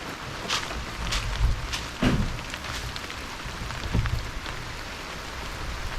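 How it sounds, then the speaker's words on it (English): Steady rain from Hurricane Helene falling on surfaces outdoors near a dock, a constant dense hiss with scattered louder drops and thuds, no voices. "It's raining more."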